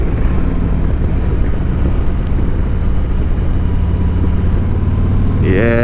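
Steady, loud engine drone of a 2021 Harley-Davidson Road Glide Special with the Milwaukee-Eight 114 V-twin while riding, a continuous low rumble mixed with wind rush throughout.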